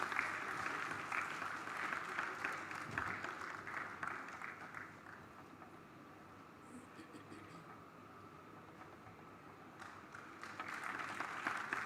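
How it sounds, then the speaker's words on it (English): A conference audience at a technical session of the Indian Roads Congress in Bhubaneswar claps steadily, a dense patter of applause that softens in the middle and swells again toward the end. "We can give a round of applause."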